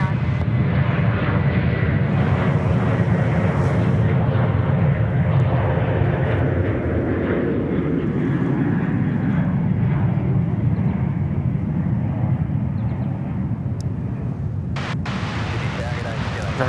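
A jet airliner lands on runway 34 right at Sydney Airport, a loud sustained roar that slowly shifts and fades over the run, with voices talking over it.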